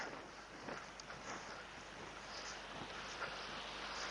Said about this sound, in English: I don't know if you guys can hear a word I'm saying over this wind